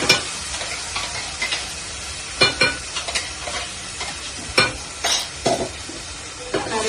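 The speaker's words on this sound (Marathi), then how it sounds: "ह्याला तेल सुटेपर्यंत ह्याला तेलामध्ये परतवायचं आहे आपल्याला" Coarsely ground masala paste for chole is stirred and fried in oil, giving a steady close sizzle broken by repeated scraping strokes of the spoon through the pan, with no voices.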